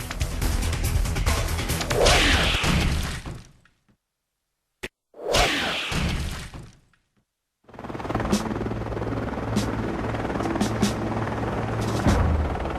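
Loud military helicopter rotor noise whooshes past in bursts at a large military base, cutting out briefly before the heavy thumping engine roar returns, close and dominant.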